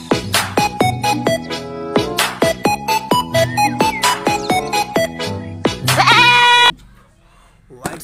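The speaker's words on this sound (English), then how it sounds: "white sheep" Repeated loud, close sheep bleats in quick succession, wavering and nasal, continuing for several seconds before cutting off abruptly into near silence.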